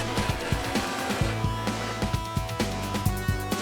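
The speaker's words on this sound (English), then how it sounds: "just use the grinder wheel" A grinder wheel cutting travertine tile outdoors, heard as a steady whining motor drone with rhythmic bumps and gritty pulses as the disc bites into the stone, close and unbroken, with no talking.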